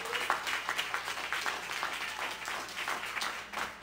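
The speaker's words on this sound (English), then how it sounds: "Let's give the Lord a hand clap of praise." A church congregation claps in praise at the close of a sermon, continuous, fairly soft overlapping applause heard from a distance in the sanctuary.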